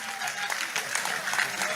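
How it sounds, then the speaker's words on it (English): A crowd at a political gathering applauds Peter Obi as he departs, with continuous, fairly distant clapping that stays even and faint throughout. "Please, can we make a round of applause for Mr. Peter Obi as he leaves?"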